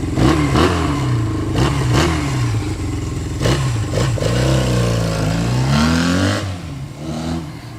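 A classic Honda SL175 twin-cylinder enduro motorcycle with its factory up-pipe exhaust revs up and down repeatedly, each blip rising in pitch and falling back, loud and close with no talking.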